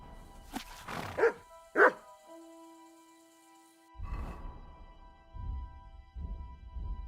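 Mutt the dog barks in the Kingdom Come: Deliverance II video game, giving a couple of sharp, close barks in quick succession, followed by a held tone and then muffled game rumbles.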